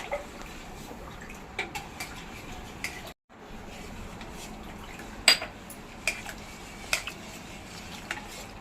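Jaggery being stirred into a kharvas mixture in a bowl, heard as quiet clinks of a spoon against the bowl and soft wet stirring, with scattered sharper taps and no talk.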